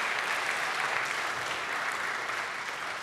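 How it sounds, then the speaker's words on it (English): Audience at a high school baccalaureate ceremony clapping steadily, a dense, even wash of many hands that holds at full strength for the whole stretch with no voices over it. "You can give a clap for Michael."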